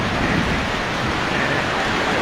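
Heavy, sudden rain in Chandpur pours down in a steady, dense roar of broadband hiss, close and loud, with no voices.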